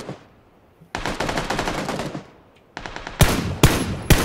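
Video game gunfire in a battle royale match, with a long burst of rapid automatic fire followed by a pause, then a shorter burst and several loud, sharp single shots, heard alone without talk.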